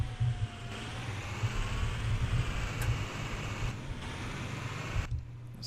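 A car drives through a neighborhood in the Rigs of Rods driving game, with a steady, moderate engine drone and road noise rolling along continuously and a brief chirp partway through.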